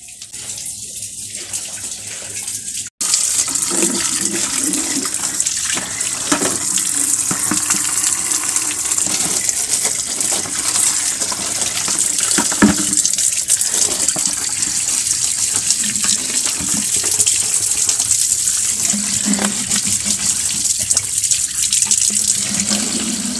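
A tap runs in a strong, steady gush as drinking water is collected, filling and splashing continuously at close range after a brief quieter start, with no talking.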